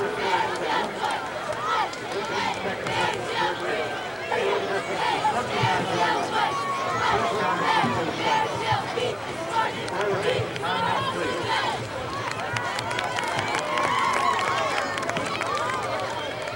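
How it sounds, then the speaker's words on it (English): Enthusiastic crowd at a high school varsity football game with cheerleaders, a dense continuous roar of chatter and cheering, with a commentator talking over it throughout. "You have an enthusiastic crowd responding to him tonight"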